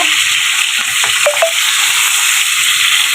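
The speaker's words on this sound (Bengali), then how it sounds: "চিকেনগুলো ফ্রাই করে নিচ্ছি রোস্টের জন্য" Chicken pieces fry in hot oil in a pan for a roast, a loud, steady close-up sizzle with a couple of faint utensil clicks.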